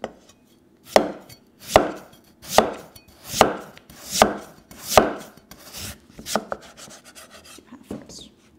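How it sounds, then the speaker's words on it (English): A knife cuts a potato on a chopping board in slow, evenly spaced strokes, about six firm chops roughly a second apart, then softer, quicker slices at the end, close and clear with no talk. "what I will do is square off one of the sides, just so that it's a little bit easier and sits on my chopping board"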